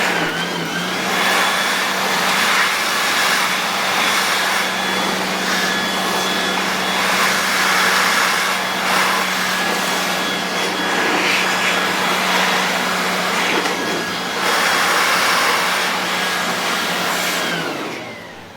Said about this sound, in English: I'm just going to try cleaning it with this leaf blower.